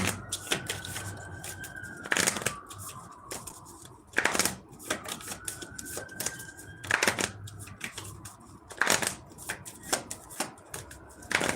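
Tarot cards shuffled by hand in repeated bursts of crisp riffling and slapping, close and fairly loud, with short pauses between shuffles and a faint background tone.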